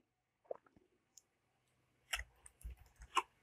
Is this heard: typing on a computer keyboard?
yes